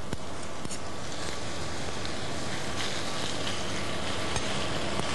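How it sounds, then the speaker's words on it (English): Ackee and saltfish simmering in a pan, a steady fine bubbling sizzle running throughout with a few faint clicks and scrapes, no talking. "And then I'll let it simmer for just a few minutes."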